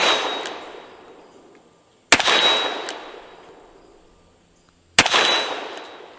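Three loud .357 Magnum shots from a Ruger GP100 revolver with mild loads, each a sharp crack followed by a long ringing clang off a steel target, spaced a few seconds apart with no talking.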